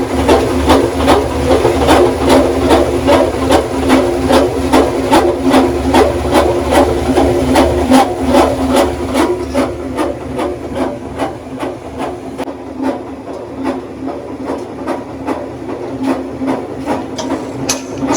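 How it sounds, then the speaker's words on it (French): A 300-litre mixer for cosmetics and soap running with a steady mechanical drone and regular rhythmic knocking beats, loud and close, easing slightly partway through, with no voices. "Vous allez voir comment est-ce que le mélangeur fonctionne."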